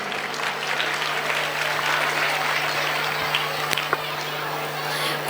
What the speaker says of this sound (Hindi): इनके वंदन में एक बार जोरदार तालियां हो जाए।